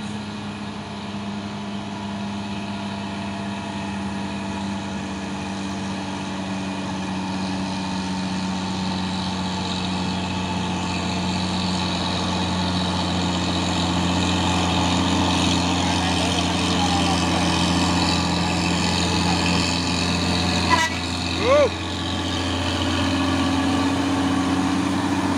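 A Hino trailer truck on an Indonesian road, its tarp-covered load rolling past with a steady low diesel drone that grows louder and nearer, holding for a long stretch with a brief sharp squeak near the end.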